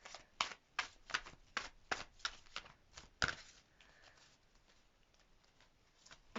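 Tarot cards shuffled by hand in a rapid series of crisp riffling bursts, about nine quick slaps over three seconds, then a quieter soft rustle of cards settling.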